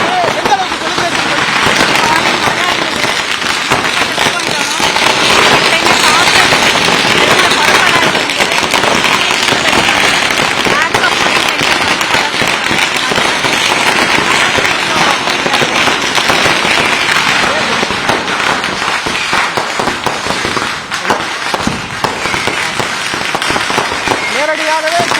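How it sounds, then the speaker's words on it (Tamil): Diwali firecrackers burst continuously at night in a Chennai neighbourhood where families celebrate, forming a dense, loud, unbroken crackle and rattle of overlapping pops from near and far, with voices talking underneath. "இங்கு பேசக்கூடியவர்களுடைய சவுண்டு கேட்க முடியாத அளவிற்காக முழுவதுமாக பட்டாசுகளின் சத்தமே கேட்டு வருகிறது"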